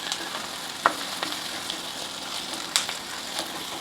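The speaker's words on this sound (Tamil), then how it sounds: "கறிவேப்பிலை போட்டுக்குவோம்." Curry leaves frying in hot oil with onions, a steady soft sizzle with occasional sharp pops and crackles, close and without talking.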